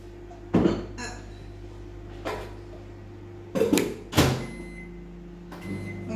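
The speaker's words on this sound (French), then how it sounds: "Donc tout simplement au micro-ondes." A microwave oven melts butter with a low steady hum, broken by several sharp clunks and knocks of a door and dishes, fairly quiet and close.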